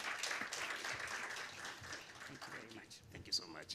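Audience applause at a climate week conference session on livelihoods and skills, a dense wash of clapping with scattered louder claps, moderately loud and slightly tapering, with faint voices mixed in.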